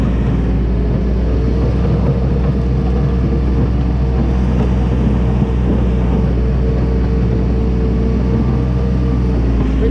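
A tractor engine drones steadily while plowing snow, a loud, close, unbroken low rumble with no talking.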